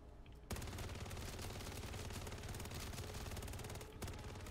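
Rapid, sustained submachine gun fire in MW3 Zombies, a dense unbroken burst lasting several seconds with a brief pause before it resumes, loud and close.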